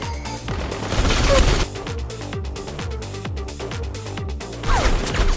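Rapid bursts of gunfire crack in a busy, continuous exchange during an action film shootout, loud and dense, with a heavier flurry near the start and again at the end.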